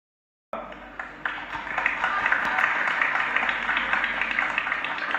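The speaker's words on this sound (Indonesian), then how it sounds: "Kita berikan tepuk tangan buat calon presiden 2024." Audience applause for a presidential candidate at a 2024 presidential debate, starting abruptly and swelling into sustained, dense clapping that holds steady to the end.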